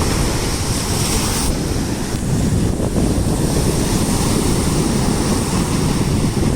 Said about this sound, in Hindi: आप ये जो विशाल समुद्र देख रहे हैं पानी का,